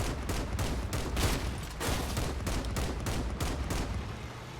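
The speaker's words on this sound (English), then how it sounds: "Is that another vehicle shooting me, or is that one of the pumpjacks?" Rapid gunfire from combat vehicles in Crossout rattles in repeated bursts, a steady stream of loud shots and impacts pounding throughout with no pauses.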